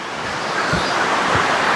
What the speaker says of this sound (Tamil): இங்கே ஒரு ஃபால்ஸ் மாதிரி குட்டியாக இருக்குது